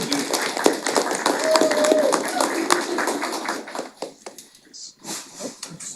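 An audience at a county board meeting claps in a dense patter of handclaps that gradually thins out and fades into scattered claps, with a voice audible at times.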